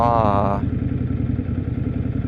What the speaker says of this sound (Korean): 배기음도 한몫하는 바이크란 말이에요